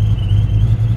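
A 1996–98 Ford Mustang GT with a coil-on-plug conversion and no idle air control idles on a cold start, giving a loud, close, steady low engine drone with slight unevenness.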